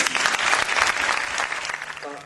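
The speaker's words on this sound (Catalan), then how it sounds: "Per favor, un fort aplaudiment per a este valent." A theatre audience gives loud, dense applause during a comedy stage performance, the clapping rolling on at full strength and easing slightly as a voice cuts in near the end.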